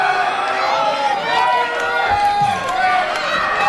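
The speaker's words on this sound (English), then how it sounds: "Crowd starting to rally behind Rick Owens, trying to get him back into this thing." Wrestling crowd at a Capital City Wrestling heavyweight title match roars steadily to rally behind Rick Owens, a continuous dense cheer with a commentator's voice over it.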